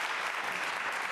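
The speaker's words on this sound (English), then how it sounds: "Please give a round of applause for the students again." Steady applause from an audience in a room at a book signing and benefit event, honoring students with a continuous even patter of many hands clapping throughout, no voices over it.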